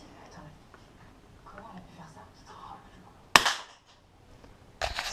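A Beeman P17 air pistol fires a Gamo Match pellet with one sharp, loud crack partway through, followed by a quieter second impact-like burst near the end, over faint background murmur.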